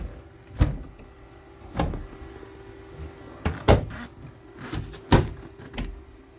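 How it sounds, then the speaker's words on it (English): Drawers and cabinet doors in the kitchen of a 2018 Keystone Outback Superlite travel trailer slide and thump shut, about five or six separate knocks spread irregularly over a quiet interior background, fairly close. "Plenty of drawers, storage underneath."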